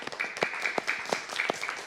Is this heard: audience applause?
yes